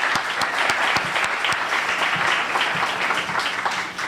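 An audience claps for a book's authors at a Puerto Rico migration and labour market event, giving steady, dense applause that stays loud throughout and fades slightly at the end.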